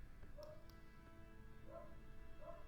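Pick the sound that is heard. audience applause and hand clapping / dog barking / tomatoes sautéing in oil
dog barking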